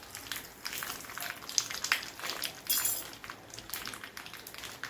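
Cumin, mustard seeds and dried chili crackling in hot oil over a low flame, a faint scatter of small pops and ticks over a soft sizzling hiss, with no talk.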